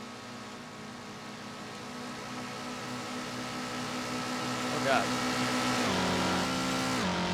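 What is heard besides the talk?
car passing another car on the road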